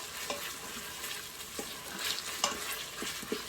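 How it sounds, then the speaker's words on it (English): Ginger sizzling in hot oil as it is stirred around the pot, a continuous bright hiss broken by short spoon scrapes and taps, close up, without speech. "We're going to move that around for a couple seconds, and then we're going to add in our spices so they can bloom in the hot oil."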